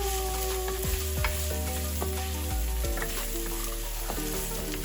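Chopped onion frying in a pan and stirred steadily, with a constant loud sizzle and several scraping knocks of the spoon against the pan; no voices.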